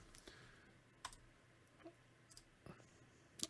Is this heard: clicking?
yes